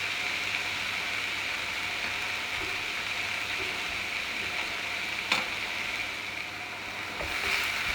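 Zucchini cooking in a hot pan with a knob of butter, a soft continuous sizzle and frying hiss held steady at low level, with a couple of faint clinks of a utensil.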